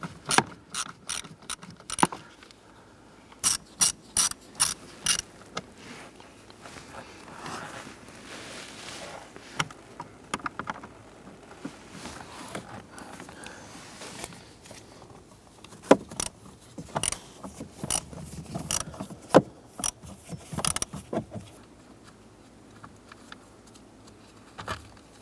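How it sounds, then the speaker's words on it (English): Socket ratchet with a 7/32 socket removing screws on a 2006-2013 Chevrolet Impala heater blower motor, giving bursts of rapid clicking ratchet strokes separated by pauses, close and crisp, with occasional metallic rattles. "we're going to use a 7/32 socket on our ratchet. And we're going to go ahead and remove these 3"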